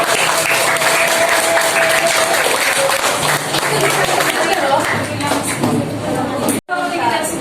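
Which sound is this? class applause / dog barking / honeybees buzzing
class applause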